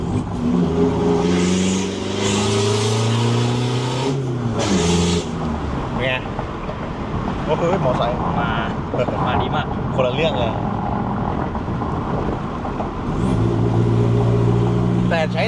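A tuned car accelerates hard through its gears, the engine note rising in repeated sweeps, loud and close, with people talking over it throughout.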